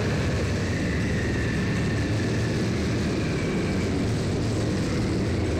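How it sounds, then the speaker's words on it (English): Combat robot weapons whirring up to speed in a robot fighting arena match, a steady loud broadband motor roar with a high rising whine running throughout. "Reese spinning that weapon up as well"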